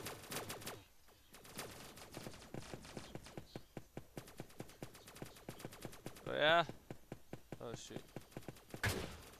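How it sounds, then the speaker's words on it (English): A submachine gun fires in short rapid bursts during Roblox Strobe 2 gameplay, sharp repeated cracks running steadily through the clip under brief excited talk. "I got a submachine gun"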